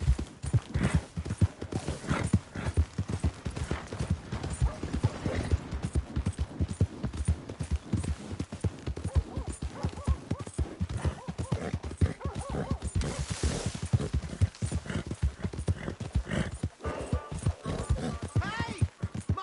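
Steady clip-clop of horse hooves trotting throughout in Red Dead Redemption 2, with a horse whinnying at moments and voices talking over the rhythm.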